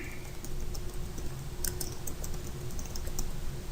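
Keys tapped on a computer keyboard to enter a check number into accounting software, heard as a steady run of light, quiet clicks over a constant low background hum.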